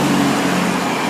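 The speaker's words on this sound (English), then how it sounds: "Sorry about the traffic. I live on a main street." Road traffic on a busy main street, with a car passing loudly and close by as a steady broadband rush over a short moment, with no voices.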